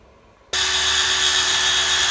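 A power saw starts abruptly and runs with a loud steady high whine while cutting into a kitchen cabinet to fit a farm sink during a remodel, close by with no talking.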